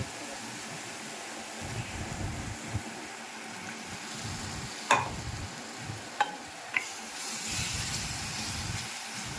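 Masala with a little water simmers on low gas in a bean curry pan, giving a quiet, steady sizzle and hiss with soft stirring and a few sharp clinks of a spoon.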